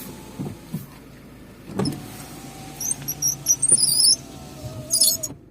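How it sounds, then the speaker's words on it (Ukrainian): Electric power windows of a 2005 Skoda Fabia 1.4 MPi estate whir and squeak in short bursts, with a few clicks and thumps inside the quiet car. "склопідіймачі працюють"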